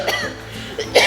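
A single sharp human cough, close and loud, with a short throaty burst and a second rougher push at the end, no speech around it.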